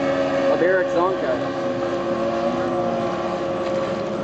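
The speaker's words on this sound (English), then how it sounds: "On the outside here in front of you, the blue boat, the Delta, of Eric Zonka." A racing powerboat engine roars past during a TORC boat race at Dunnville, a loud, sustained droning whine with wind noise while a commentator talks over it.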